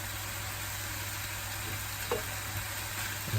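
Chopped tomatoes sizzling in a hot frying pan during meal prep, a steady loud crackling hiss throughout with a faint clink or stir partway through, no speech.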